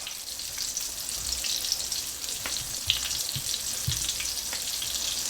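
Salmon croquettes fry in a cast iron pan with a steady, close hiss and crackle of hot oil, broken by a few soft pops and light taps.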